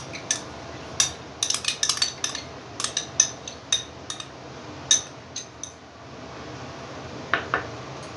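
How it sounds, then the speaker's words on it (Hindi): A spoon scoops one cup of yogurt into a bowl for tandoori chicken tikka marinade, giving a series of sharp metallic clinks and taps in irregular bursts, then a pause and two final clinks. "ये 1 कप दही है, ये मैं इस बाउल में डाल दूँ"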